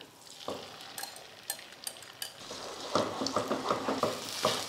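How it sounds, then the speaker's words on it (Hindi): Eggs frying in hot oil in a pan give a sizzle that builds after a few sharp clinks, with irregular crackling bursts and utensil taps close by. "तो अब ये सारे अंडे हम इसमें डाल देंगे।"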